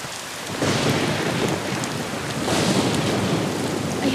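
Heavy rain pours in a dense, steady roar, with a low rumble of thunder beneath the downpour. The sound is loud and continuous, and no one speaks.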